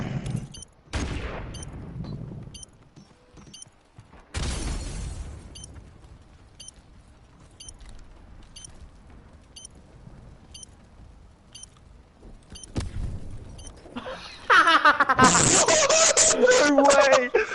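A grenade blast in a first-person shooter game, followed by sharp booms and a later car explosion that erupts into a loud, sustained burst of noise, with players talking excitedly over the action.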